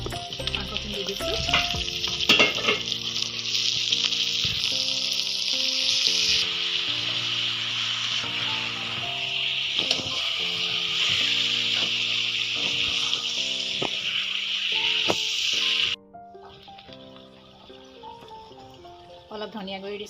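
Duck meat, dropped in with chili powder for a dry fry, sizzles steadily in a pan under melodic background music. The frying hiss cuts off sharply near the end while the music continues.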